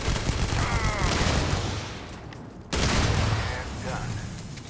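Gunfire in the space game Starfield, with a loud rattling burst, a brief lull, then more shooting, heard under voices and game sounds.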